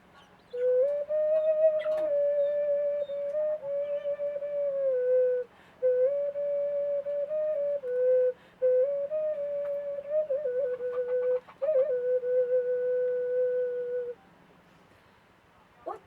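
A small clay toy whistle blown in long sustained tones, a steady pure high pitch broken by a few short breaths, close and loud.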